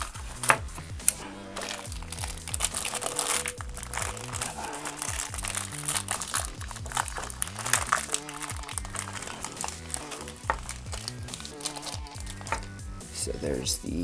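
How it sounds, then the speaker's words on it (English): Beyblade Burst B-34 Starter Victory Valkyrie toy packaging being torn and ripped open by hand, with dense crinkling, crunching plastic and cardboard sounds throughout, close and fairly loud, alongside a steady musical background. "it's a little hard to rip this stuff open"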